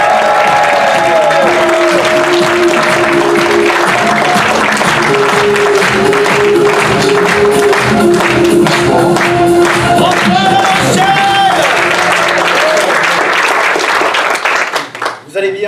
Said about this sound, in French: je vous demande de l'applaudir comme il se doit, Ismaël!